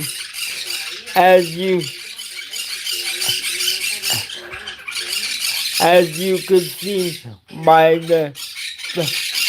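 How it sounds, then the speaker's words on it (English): Birds squawk repeatedly in loud, harsh bursts close by, while someone talks steadily over them. "apologize for the birds."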